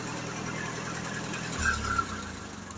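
A John Deere tractor engine running at a neighbouring property across the road, a steady low mechanical rumble heard at moderate distance with a slight swell toward the end, no voices.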